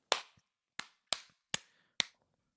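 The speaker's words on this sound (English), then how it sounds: "I'm sync clapping for the audio." Five sharp hand claps, close and crisp, spaced unevenly over about two seconds in an otherwise quiet room.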